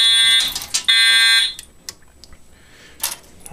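A fire alarm set off by a pull station blares in loud repeated electronic bursts, then cuts out, leaving quieter clicks and a brief final burst.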